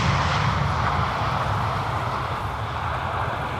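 An Austrian Bombardier C-Series 300 arrives at Amsterdam Schiphol, heading for the Polderbaan runway; its engines give a loud, steady, broadband jet roar with a deep rumble that holds nearly constant throughout, with no voices.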